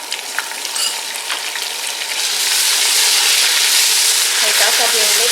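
Lightly browned onions with a tablespoon of ginger garlic paste fry in a pan for chicken kabsa, a loud steady sizzle that swells as the paste goes in, with faint speech underneath.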